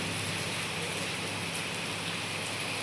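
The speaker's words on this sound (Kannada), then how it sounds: "ಈ ವರ್ಷದ್ದು ಮೊದಲನೇ ಮಳೆ" Light rain, the year's first, falling around farm fields: an even, continuous hiss of drops on surfaces at moderate volume, steady throughout with no breaks.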